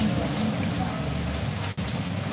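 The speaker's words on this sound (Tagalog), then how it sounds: "Eh, umuulan eh." Steady rain falls during a typhoon outside a market stall, a dense continuous hiss and patter that stays loud throughout, with a faint voice murmuring in the background.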